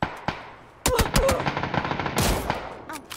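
Gunfire in the battle royale game PUBG: a sharp shot, then a rapid burst of automatic fire with loud repeated cracks, followed by another volley.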